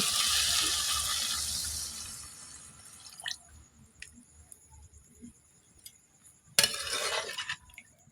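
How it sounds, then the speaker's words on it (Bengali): Water splashes into a pan of sautéed fish for a couple of seconds, followed by quiet clinks, then another short burst of rushing water. "এবার পরিমাণ মতো পানি দিয়ে দিব"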